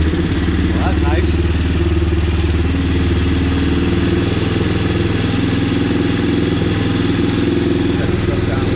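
A Yamaha Grizzly 350 4x4 ATV engine fitted with a new carburetor idles loudly up close, a steady low throbbing chug with mechanical clatter, while someone talks briefly over it near the start.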